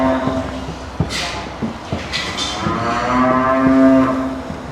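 Bred heifers on a cattle farm bellow several times, loud and near, ending in a long sustained moo, with rustling and thumps of the herd between calls.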